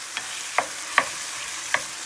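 Chicken frying in a pan with fish sauce, a steady close sizzle under a few sharp stirring scrapes spaced through the moment.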